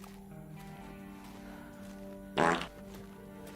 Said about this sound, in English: The ghost is around. I heard him fart.